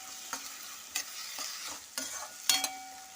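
Beans curry with tomatoes is stirred in a pan over a faint sizzle, with several distinct spoon scrapes and clanks against the pan spaced irregularly.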